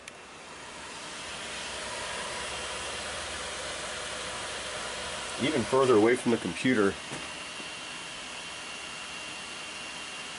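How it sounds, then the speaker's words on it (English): Visiontek Radeon R9 290 graphics card fan running at 100% speed, a loud steady broadband whooshing roar like a hair dryer, continuous and close, with someone speaking briefly over it midway. "So what I'm looking at here is target fan speed. I'm going to crank it up to 100 and you're going to hear this thing. It is loud."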